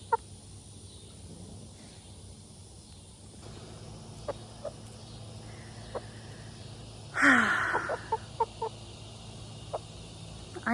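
A hen named Stella clucking, a short loud squawking cluck mid-clip followed by softer scattered clucks, with a few sharp isolated calls and low background hum.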